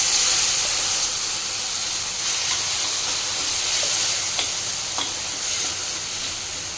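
Ground tomato and onion paste hits a pan of fried onions and green chillies while cooking egg soup, giving a steady close sizzle and hiss with a few faint stirring clicks.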